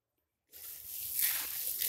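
Puffed rice is swished around in a bowl of drinking water: after a moment of silence, a soft, close watery sloshing and squishing begins and continues.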